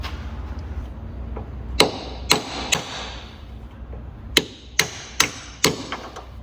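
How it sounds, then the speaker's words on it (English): A hammer drives a chisel against a rear-end part on a BA Ford Falcon during a coilover fit, with about seven sharp, close metallic strikes at uneven intervals over a low background hum. "We'll chisel it back again."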